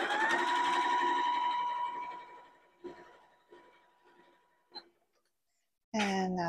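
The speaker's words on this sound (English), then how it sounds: "Now I just want to run a row of top stitching right across that pocket edge there using a 1/4 inch seam allowance." A sewing machine runs a line of top stitching across the pocket edge of a zip-top tote bag at a 1/4 inch seam allowance. A steady motor whine fades out after two seconds, a few soft clicks follow, then a short loud burst at the end.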